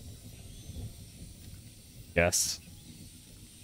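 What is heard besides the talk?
med spray hissing in Fortnite video game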